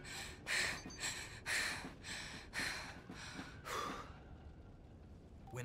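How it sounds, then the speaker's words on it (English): A character in the video game Jagged Alliance 3 pants while moving, a run of about seven rhythmic breathy gasps, close and fairly quiet, followed by a near-silent tail. "When I move they should remove that panting noise"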